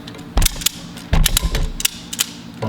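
A ratchet strap cinches down around a granite wheel bench, a few sharp, separated bursts of clicking near and loud, with quieter ticks between them.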